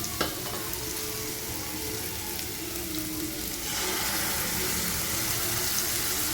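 Chopped onion and ground mint fry in a hot pan for pudina rice, a dense, steady sizzle close by that grows a little louder partway through, with no voices.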